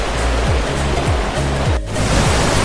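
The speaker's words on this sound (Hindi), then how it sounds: "तो मेरे पीछे वाटरफॉल है, आप देखिए कितना खूबसूरत है।" Waterfall at Noorkha Eco Park in Baramulla roars as a dense, continuous rush of falling water, loud and close throughout.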